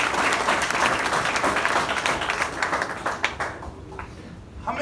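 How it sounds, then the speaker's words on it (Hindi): Audience applause at a college freshers' comedy show: loud, dense clapping from a crowd that holds steady for about three seconds, then thins out and tapers into scattered claps. "तो जोरदार तालियां हनुमान जी के लिए।"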